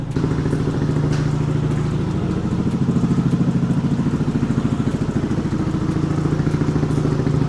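A Yamaha NMAX scooter engine with 50,000 km idles nearby after an engine oil flush, with a steady, rapid throbbing putter that holds constant throughout.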